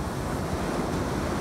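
Ocean surf at a beach during surf fishing, a steady broadband wash of waves breaking and rolling in with some wind buffeting the microphone, loud and continuous throughout.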